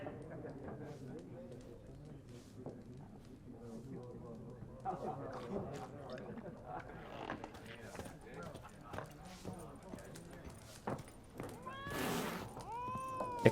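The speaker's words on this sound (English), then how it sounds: "The cat's fucking pissed" An angry cat in The Witcher 3 meows and yowls amid quiet game ambience and hoof-like clatter, its harsh cry rising loudest near the end.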